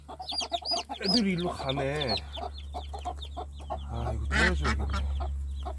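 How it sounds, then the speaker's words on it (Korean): Chickens and little chicks cluck and peep close by in a steady, busy chatter, sharp chirps scattered throughout while a person talks over them and a low hum runs underneath. "병아리 새끼 되게 귀엽다"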